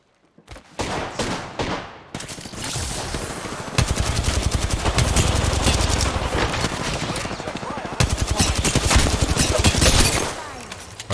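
Rapid automatic gunfire from a weapon in the Apex Legends video game, loud and close, with sustained bursts running through most of the stretch and short pauses between them.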